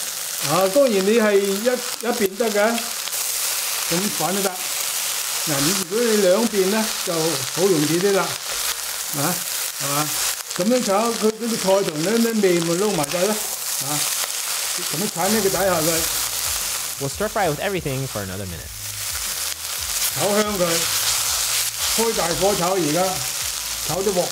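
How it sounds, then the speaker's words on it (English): Chow mein stir-fries in a wok with green onions and bean sprouts, giving a continuous loud sizzle with stirring scrapes, while people talk over it almost the whole time. "will add green onions and bean sprouts and continue mixing"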